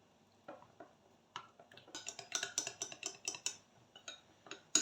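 A spoon clinks rhythmically against a cup or bowl while wheat starch is stirred into water, a run of sharp, fairly close taps that quicken and grow louder midway, with no talk.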